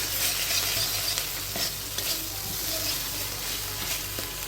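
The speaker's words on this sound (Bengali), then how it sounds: "এখন আমি ভালো থেকে নাড়াচাড়া করে নিচ্ছি।" Spice paste with onion and garlic for a bean curry fries in oil while being stirred, a steady close sizzle broken by soft scraping strokes throughout, with no voices.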